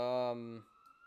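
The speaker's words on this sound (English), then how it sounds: "here comes the siren" An emergency vehicle siren passes outside, heard as a faint harmonic wail that drops in pitch and fades away within about a second.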